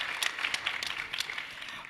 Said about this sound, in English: Another big round of applause for Jaime and Quqo.